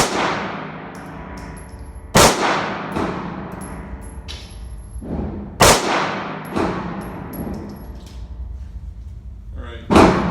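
IWI Jericho pistol shots fire outdoors at a range, three sharp loud reports spaced a few seconds apart, each followed by a ringing decay, with a fainter metallic clang between them.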